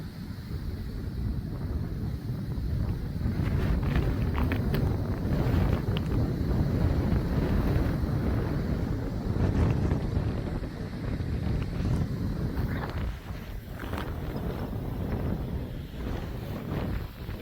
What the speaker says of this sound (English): This wind is pretty persistent.